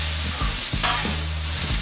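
Bacon crisps on a Blackstone griddle, a steady frying sizzle broken by a few quick scraping tosses of a spatula, close and clear with no talking.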